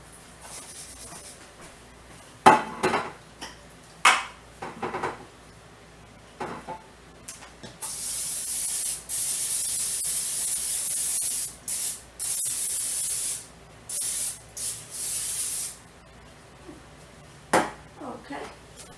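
Repeated hissing bursts of an aerosol cooking spray coating a casserole dish, some short and one long sustained stretch, with light clinks of the dish in between.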